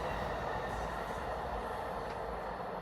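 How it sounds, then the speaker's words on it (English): A passenger train rolls past train tracks beside a Fisher River campsite near Libby, Montana, a steady low rumble of wheels and cars heard from fairly close, with faint squeal, and nobody speaking. "There's a train going by."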